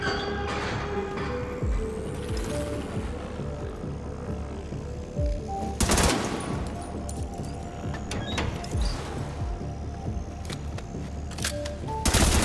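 Gunfire and explosions in a firefight from the video game The Division 2, set in New York, with dense continuous battle noise, several louder bursts and booms standing out over a steady background din.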